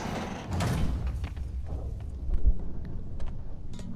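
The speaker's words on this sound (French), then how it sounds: "Une porte cachée." A hidden door slides open in a Spider-Man video game, giving a heavy rumbling scrape with mechanical clunks and a deeper surge partway through, loud and close with no talking over it.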